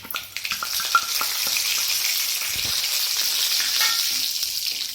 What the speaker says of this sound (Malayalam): കടുക് പൊട്ടി അതിലേക്ക് നമുക്ക് ഈ ഉലുവ ഇട്ട് കൊടുക്കാം